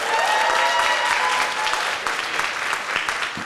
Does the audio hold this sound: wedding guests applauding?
yes